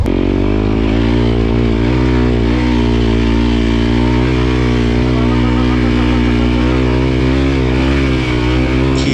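An enduro motorcycle climbs a mountain trail at Doi Soi Malai, its engine a loud, close, continuous drone with steady pulsing tone throughout and no pauses.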